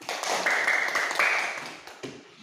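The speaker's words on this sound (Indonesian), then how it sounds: "Mana tepuk tangannya?" A short burst of clapping from a classroom of students, quick hand claps that swell briefly and then fade within a couple of seconds, fairly light and close by.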